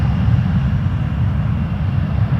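A Condor airliner departs at Toronto Pearson Airport, its jet engines making a loud, steady low roar that fills the whole clip without a break.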